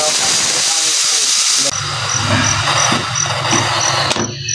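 A pot of chicken sinigang soup hisses loudly with escaping steam, a broad rushing sound that cuts off abruptly and gives way to bubbling and boiling, with a voice speaking over it.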